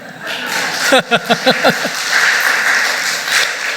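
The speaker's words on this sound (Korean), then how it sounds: "괜찮으면 박수 한번 해요." A church congregation claps together after a sermon, a burst of five or six loud, evenly spaced claps followed by scattered lighter applause and murmuring in a reverberant room.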